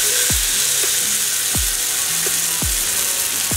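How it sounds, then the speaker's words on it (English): Pomfret fish frying in butter on a tawa, a steady broadband sizzle that stays constant and fairly loud throughout, with several dull knocks and clinks from handling the pan layered over it. "এবং এই সাইডটাও আমি ফ্রাই হতে দেব"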